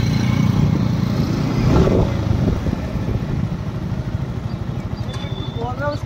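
A Yamaha R15 V4 sport motorcycle engine idles and rumbles steadily at close range, with a brief rise in revs early on and a few faint higher chirps later.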